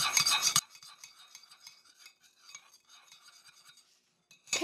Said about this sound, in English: we want to stir that in well